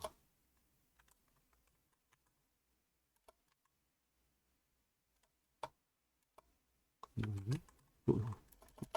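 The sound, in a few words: typing on a smartphone keyboard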